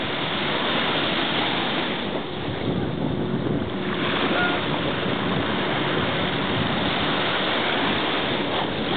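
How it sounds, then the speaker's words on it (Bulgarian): Steady wash of waves breaking along a Mexican shoreline, with boats and jet skis passing offshore and wind buffeting the microphone; a continuous, fairly loud roar with no talking. "само удрят разни вълни тук."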